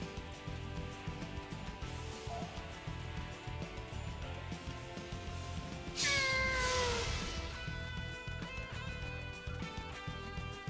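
A cat meows in the French-played video game Yoru no Nai Kuni, one clear drawn-out meow midway through, over steady game music with no talk.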